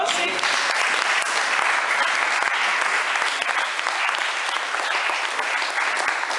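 A church congregation applauding the Lord during a Sunday pastor's ordination service, dense sustained clapping from many hands that fills the room without pause.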